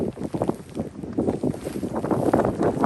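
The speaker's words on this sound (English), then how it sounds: "Wind's picking up a little bit." Gusty wind buffeting outdoors on a rainy backpacking hike, rising and falling in rough close rumbling swells against the microphone, with no voices.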